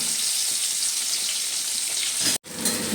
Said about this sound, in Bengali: ভালো করে এবারে তেলের মধ্যে ভেজে নেব আলুগুলোকে